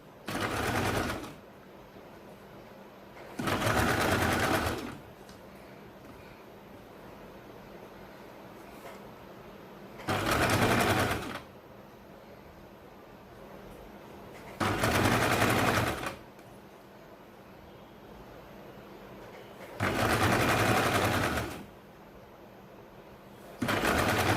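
Bursts of a sewing machine stitching along the folded edge of a baby circle frock, five or six evenly spaced runs of rapid needle chatter, each a second or two long, separated by quiet pauses.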